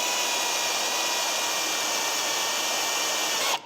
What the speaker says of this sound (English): We got our holes drilled